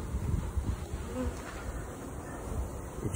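A dense, steady buzz of many honey bees close by, droning continuously without pause, during removal of a colony from a mobile home trailer.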